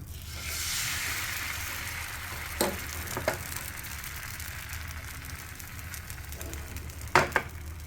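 Rice flour batter for Soru Chakli pitha sizzles steadily on a greased pan, a continuous close hiss with a few sharp pops and clatters near the middle and end.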